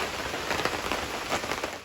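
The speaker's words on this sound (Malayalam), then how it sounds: "മഴ ഇപ്പോഴാണ് പെയ്തത് പെയ്ത് തുടങ്ങുന്നേ ഉള്ളൂ ചാറ്റൽ മഴയാണ്" Light drizzle begins falling outside a home on a rainy day, a brief, soft, even patter of drops.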